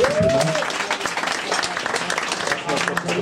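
Audience at a stand-up comedy night at Comedy Club Sofia breaks into dense, steady applause and clapping, a close room-filling wash throughout with a brief whistle-like tone near the start.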